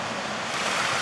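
Cold water around 50 degrees pours down in a steady, loud, broadband rush over rock, continuous throughout with no pauses or voices.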